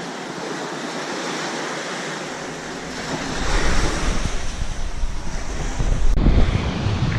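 Surf rolling in at Chesapeake Beach with strong wind buffeting the microphone, starting softer and swelling into a loud, continuous roar of breaking waves close by.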